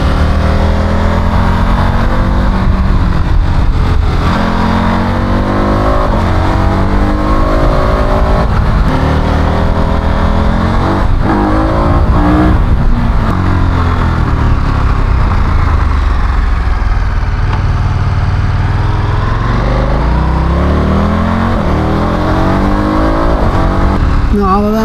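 A KTM motorcycle on a test ride roars loudly and close, its engine revving up and down through repeated gear changes over nearly half a minute, with wind and road noise beneath.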